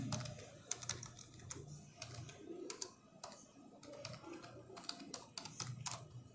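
Java code being typed on a computer keyboard: fairly faint, irregular clusters of key taps with a low background hum and no speech.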